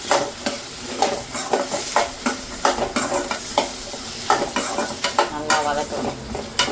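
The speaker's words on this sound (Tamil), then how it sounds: "நம்ம உருளைக்கிழங்கு ஃப்ரை பண்ணுவோம் ஃபஸ்ட்டு" Potato pieces sizzle in a hot pan while a spoon scrapes and turns them in quick, regular strokes, close and with no talk.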